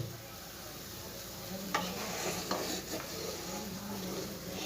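Gravy bubbling in a lidded pot on a home kitchen stove, a quiet steady simmering hiss with a couple of brief clinks from a utensil or lid, no talking.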